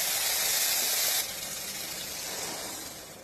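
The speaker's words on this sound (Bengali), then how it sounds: "সর্ষে আর কালো জিরেটাকে একটু ভাজা ভাজা করে নিতে হবে" Mustard seeds and nigella frying in hot cooking oil, giving a steady, close sizzling hiss that drops slightly in loudness partway through and then continues evenly.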